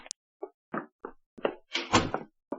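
A door forced open on an old 1950 radio drama, a string of short knocks, taps and wooden clatters followed by a louder scraping rattle as it gives, close and fairly quiet, with no one speaking.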